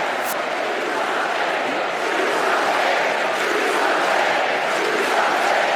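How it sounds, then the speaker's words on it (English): Dense convention crowd at the Democratic National Convention chanting in unison, a steady roar of many voices sustained throughout without pause. "Let's listen to the crowd chanting, do something,"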